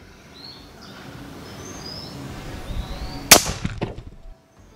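Air rifle firing a 25 grain .22 H&N slug at about 965 feet per second at a bottle taped to a table: one sharp crack near the end, followed by brief clattering, over quiet outdoor background with faint birds.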